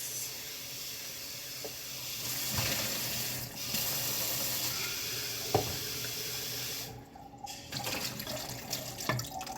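Soaked broccoli sprouts rinsed and drained in a kitchen sink, with steady running tap water and splashing, plus a few clicks and knocks from handling the sprouting jar or strainer.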